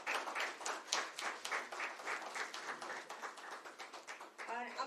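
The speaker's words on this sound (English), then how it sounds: "Give him a big round of applause," Audience applause at a live Business Continuity Awareness Week stage event, a dense patter of hand claps sustained for about five seconds, moderately loud, with a brief voice near the end.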